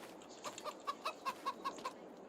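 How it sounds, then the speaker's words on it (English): Chickens in the farming game Farming Simulator 22 cluck in a steady run of short, evenly spaced calls, fairly quiet and alone with no talking over them. "let's go see how our chickens are doing"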